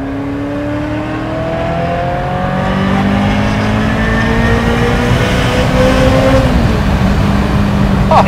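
A Ferrari F355 GTS engine climbs to 8000 rpm, its pitch rising steadily in one long loud rev before easing back near the end, harsh and close.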